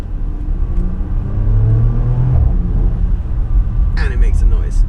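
A Porsche Macan Turbo driven fast, its engine droning and rising in pitch before a shift, with road rumble and wind throughout; someone talks over the car noise.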